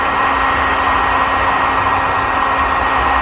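A dryer blows air steadily across a stripped wooden table during restoration, giving a loud, close, continuous whoosh with a steady motor whine that holds unchanged throughout, with no voices.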